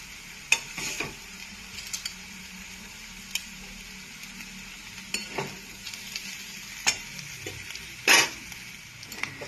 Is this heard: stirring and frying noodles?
yes